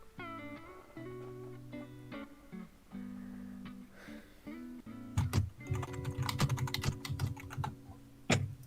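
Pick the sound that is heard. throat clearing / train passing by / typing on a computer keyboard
typing on a computer keyboard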